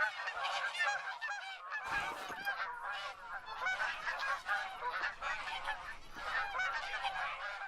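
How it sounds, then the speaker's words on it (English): Loud geese honking on all sides in a field during a goose hunt, a thick unbroken wall of overlapping calls with a short low rumble near the start. "it's literally 360 degrees of goose screaming"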